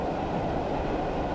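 A Class 121 diesel railcar in Train Simulator 2020 pulls away under low power, a continuous dense rumble of engine and rolling wheels, loud and steady throughout, with no speech.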